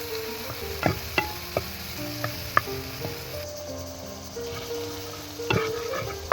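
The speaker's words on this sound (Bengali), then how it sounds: "এখন পেঁয়াজটারে একটু ভাজি করে নিই" Onions fry in oil in a pan after an egg, sizzling softly while a utensil knocks and scrapes against the pan in scattered sharp taps.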